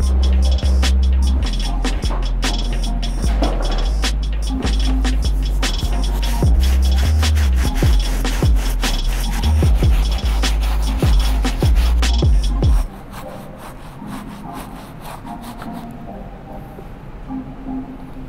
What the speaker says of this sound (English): I'm just gonna clean the entire shoe again with that medium brush